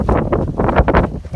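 Gusty wind buffets a microphone outdoors beside a house, producing loud, uneven low rumbling thumps that swell and drop in quick bursts, with no voices.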